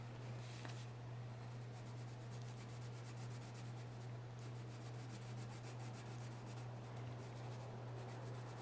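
A colored pencil scratches and rubs steadily on paper, filling in a circle on a color wheel, quiet and close, under a constant low electrical hum.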